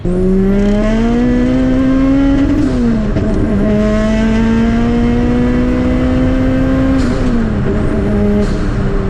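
A big-turbo four-cylinder Pontiac Vibe accelerates hard, its engine note climbing loudly through two long pulls with a brief dip between for a gear change, all up close and without speech.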